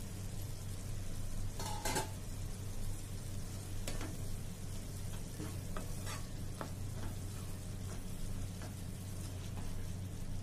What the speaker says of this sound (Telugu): ఇలా మళ్ళీ కలుపుకొని